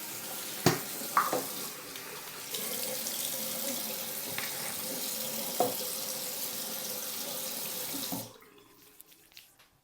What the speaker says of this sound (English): Je me lave le visage.